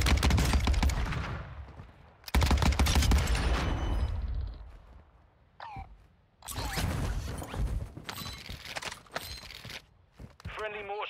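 Gunfire bursts in Call of Duty: Warzone, loud dense volleys in the opening seconds, then sporadic shots and impacts with quieter gaps, mixed with game sounds and voices.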